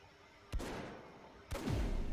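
Two pistol shots go off in the video game Dreadlands, one second apart. Each is a sharp, loud crack with a rumbling tail.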